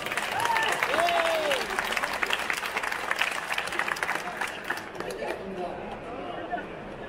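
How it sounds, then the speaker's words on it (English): Audience clapping at an aquascaping contest during an aquarium trade fair in Holland, a steady burst of applause mixed with crowd chatter and voices, gradually thinning out near the end. "And where's the applause, guys? Come on."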